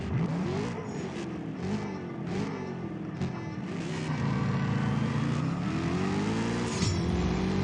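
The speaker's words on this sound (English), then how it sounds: "You see me downshifting there a little bit" A car engine in the CSR2 racing game, revving steadily with the pitch dropping and climbing through downshifts, a loud continuous drone close up with a brief swell near the end.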